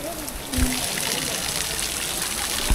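Cold water pours and trickles from the rocks at Sahastradhara in Uttarakhand, a dense, steady rushing close by that fills the whole moment, with a voice faintly present beneath it.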